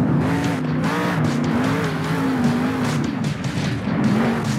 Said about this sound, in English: I want you to power spin your way back upright.